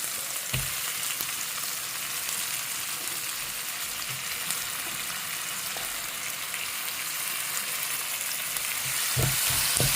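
Onions, green chilies and tomato sautéing in a pan, a steady dense sizzle of frying with occasional soft stirring knocks, close and continuous without any talk.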